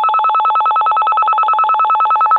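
A telephone rings steadily with a warbling electronic trill, loud and close, repeating in a fast regular pulse with no voices over it.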